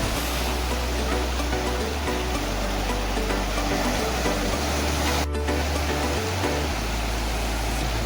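Sea waves roll in at a Mumbai sunset point, a dense, continuous roar of surf with a strong low rumble, heavy and unbroken throughout, like wind buffeting the microphone.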